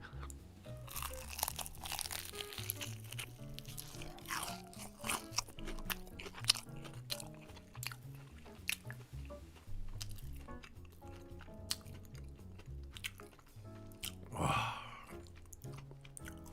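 Crunchy Korean fried chicken bitten and chewed close to the mic, with a rapid run of loud crackling crunches and wet chewing across the whole stretch, one sharp crunch standing out near the end.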